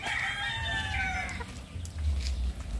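Young cockerels crowing, a loud multi-note crow in the first half, then low clucking and scuffling as the birds squabble in a backyard, with no voices.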